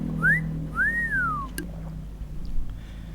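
Two short rising-and-falling whistles by a person, one quick and one longer and sliding, followed by a sharp click and quiet room noise.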